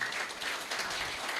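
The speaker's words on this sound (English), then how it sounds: "Let's give one more round of applause to our doctor" Audience applause for a doctor's presentation at a university science event, a dense, steady wash of clapping that holds evenly for the whole moment without voices.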